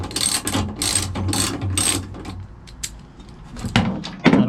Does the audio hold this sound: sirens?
no